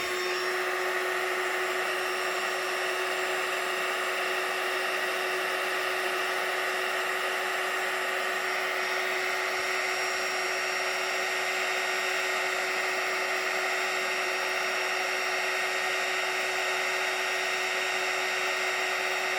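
A handheld heat tool warms a ribbon craft piece with a steady, high-pitched electric whine and airy blowing hiss that holds unchanged for nearly twenty seconds, with no talking.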